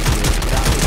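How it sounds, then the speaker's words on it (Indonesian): Rapid bursts of gunfire in a Free Fire video game match, in quick succession, loud and punchy, with a dense rattling rhythm throughout the brief moment. "Tembakan mereka sudah diberikan"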